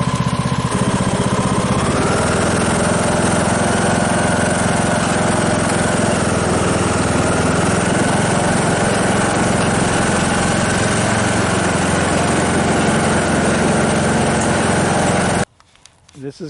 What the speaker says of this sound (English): we're going to get on the tractor and give it a try